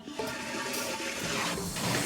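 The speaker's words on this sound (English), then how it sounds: "Do you know where stuff goes once it's flushed down the toilet?" A toilet flushes with a loud rushing surge of water that swirls and gurgles continuously for the whole stretch, close by and alone without talk.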